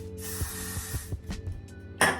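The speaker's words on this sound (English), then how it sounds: "I'm gonna spray it with my got to be glued." Got2b Glued hairspray hisses from an aerosol can onto baby hairs in a long continuous burst, close to the microphone, followed by a few light taps and a sharper second spray at the end.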